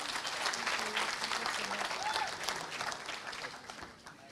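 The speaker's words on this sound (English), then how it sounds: "A big round of applause, please." An audience at a film festival's inaugural ceremony applauds, a dense wash of clapping from a crowd that is moderately distant and fairly faint, holding for a few seconds before tapering off.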